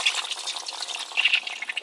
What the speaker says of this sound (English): I'm going to pull the cocktail stick and listen for the suction.